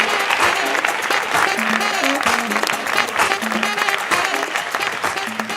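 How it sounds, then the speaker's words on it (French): Loud, dense audience applause at a French-language comedy stage show, sustained clapping from a large crowd, near and continuous, with faint shouts or voices mixed in. "Un tonnerre d'applaudissements pour Oumar Mané, mesdames et messieurs"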